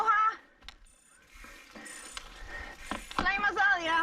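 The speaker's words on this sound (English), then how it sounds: "My Garmin again beeps" A Garmin bike computer chirps a few short electronic beeps on a wooded mountain-bike trail, faint and intermittent, mixed with breathing and a voice nearby.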